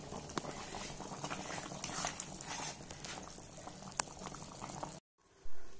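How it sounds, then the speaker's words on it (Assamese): Mati dal, black gram lentils, boiling in a cooking pot, a dense, steady bubbling and popping that runs close and loud for about five seconds before cutting out briefly and returning. "সেইকাৰণে উতলাই আছোঁ আৰু এয়া মাটি দালি হৈ গৈছে"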